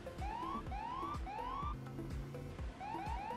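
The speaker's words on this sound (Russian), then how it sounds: "и у нас срабатывает сирена" A police car siren in GTA San Andreas Multiplayer wails in repeated rising sweeps, followed by faster yelping bursts, loud over steady engine rumble and rhythmic thumping music.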